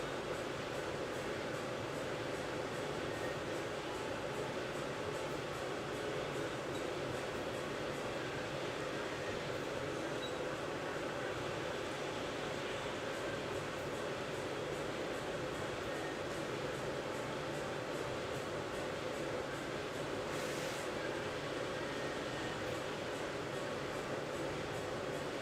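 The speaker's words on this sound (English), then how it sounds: "It's the printer." A printer's fan whirs as a steady, even drone in the background of a room, unchanging for the whole stretch apart from one brief faint click.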